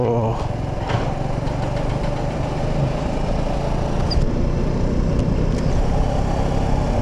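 A motorcycle engine drones steadily under constant rushing wind noise while riding on a riverside road between Dolalghat and Sukute, Nepal, with occasional faint clicks.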